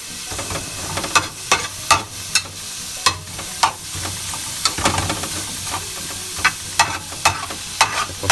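Onions frying in a pan give a continuous soft sizzle. Sharp scraping and clacking stir strokes land irregularly over the top, close and fairly loud.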